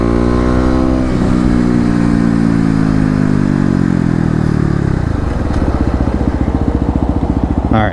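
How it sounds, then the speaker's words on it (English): Kawasaki KLX250 motorcycle on a 0 to 60 run, loud close engine climbing steadily in pitch through the gears with a brief dip at a shift, then a rapid throbbing beat at the end. "One more 0 to 60 run"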